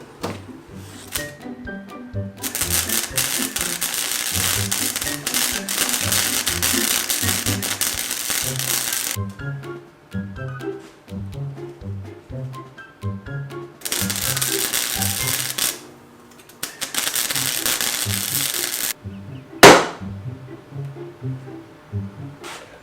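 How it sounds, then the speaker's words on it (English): Flux core welding on a broken racing seat, with long bursts of loud crackling, spattering arc noise broken by short pauses and a sharp clank near the end. "What I'm gonna try to do is weld it around to make it a little bit stronger."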